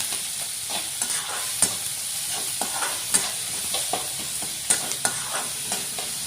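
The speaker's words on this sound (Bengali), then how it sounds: "সবগুলো উপকরণ ভাজা নিব" Cashews, ginger, green chili and garlic fry in a pan for a malai paneer dish. A constant close sizzle runs throughout, broken by intermittent scraping stirs, with no talking.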